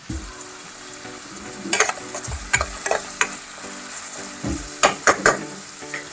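Onions and green chillies fry in hot oil in a pan, a steady close sizzle broken by several sharp scraping stirs, with no voices.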